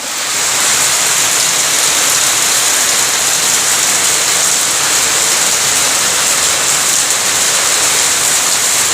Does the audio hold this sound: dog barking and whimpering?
no